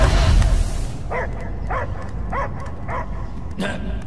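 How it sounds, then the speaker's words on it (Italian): A dog barks in the video game Guardians of the Galaxy, giving five short, evenly spaced yips after a loud opening rush of game noise, with voices talking over the scene. "Io sento solo abbaiare!"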